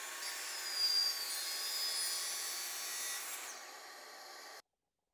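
A miter saw slicing through a plywood zero-clearance insert: a steady, loud broadband whine that runs for about four and a half seconds, swelling slightly near the start, then stops abruptly into silence.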